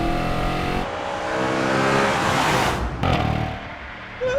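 Engine of an Audi RS5 revving hard while driving, loud and close, rising through gears with a brief drop in the middle before climbing again, with no talk over it.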